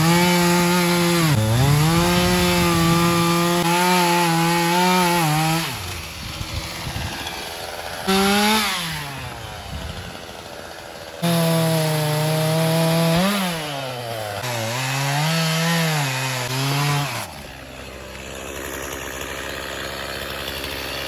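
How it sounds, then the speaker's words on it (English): A chainsaw cutting wood during tornado cleanup roars close and loud, its pitch dipping under load and climbing again as it revs, with short drops to a low idle between cuts. "So let's get the chainsaw going."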